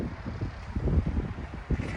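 Strong, cold wind outdoors in Calgary buffets the microphone, a steady low roar with several heavier gusts pushing through.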